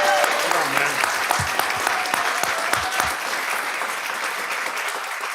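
A crowd applauds a baseball coach's Hall of Fame induction at a school governing board meeting, a dense, steady wash of clapping filling the room and slowly thinning toward the end.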